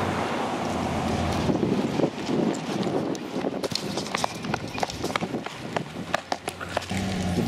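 Strong wind gusts buffet the microphone beside a road with passing traffic, a steady broadband roar broken by sharp bursts, with no speech over it.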